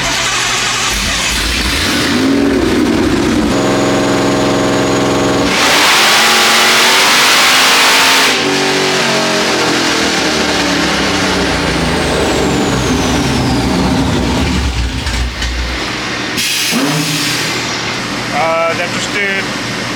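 A supercharged car engine revs hard on a dyno pull, its pitch rising loudly over many seconds and then dropping back. It is joined by a bright burst of intake or blower whine. Voices talk over it at times.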